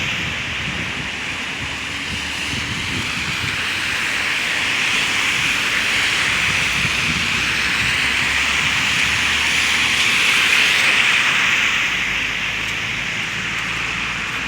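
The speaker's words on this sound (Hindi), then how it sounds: "बहुत प्यारी बारिश मक्के में" Steady rain pours down at the Jamarat in Mina, Mecca, in a dense, hissing wash that swells slightly in the middle, continuous throughout, with no talking.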